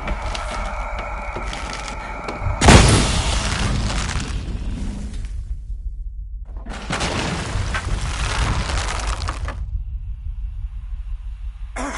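A loud booming explosion from the video game Shadow of the Tomb Raider, a sharp blast followed by a long rumbling roar of debris that fades, then surges again into a sustained crashing rush.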